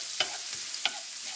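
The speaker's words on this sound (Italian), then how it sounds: "E ora aggiungo le cipolline." Small onions fry in a pan with oil while making a white asparagus risotto: a steady soft sizzle with a few scraping stirs of a utensil across the pan, close and unhurried.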